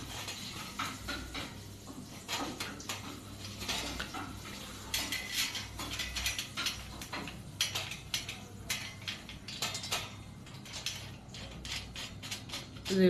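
Nuts being tightened by hand on a pipe fitting, giving faint, close metallic clicks and scrapes scattered irregularly over a quiet background.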